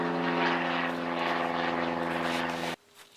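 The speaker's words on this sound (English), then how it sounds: "Stupid plane." A propeller airplane drones loudly and steadily overhead with a strong engine hum, then cuts off abruptly near the end, leaving near silence.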